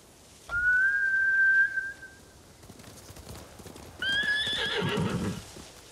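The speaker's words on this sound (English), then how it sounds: "Bastards scared off the horses." A sharp horse whinny rings out loud and close in Ghost of Tsushima, followed by rapid hoofbeats and a second, brighter neigh with snorting underneath.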